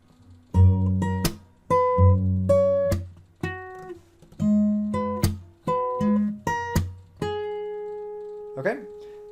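Acoustic guitar picking a passage of a song, with bright plucked notes ringing out in short phrases and a final strum near the end, played alone with no talking.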